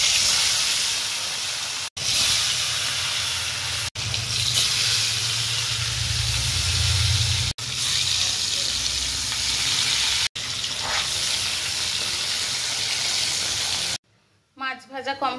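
Fish coated in salt and turmeric fries in hot oil in a wok, giving a loud, continuous sizzling hiss close by. The sizzling drops out briefly a few times and is cut off near the end.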